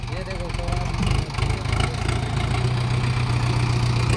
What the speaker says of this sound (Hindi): ये देख लो भाई 55 HP ट्रैक्टर है